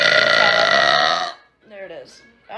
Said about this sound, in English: I have to burp though.